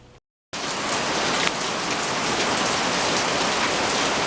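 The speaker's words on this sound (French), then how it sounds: "On est dans la pluie." Steady, heavy rain pours down close by after a brief moment of silence, a dense continuous hiss that holds at full strength to the end.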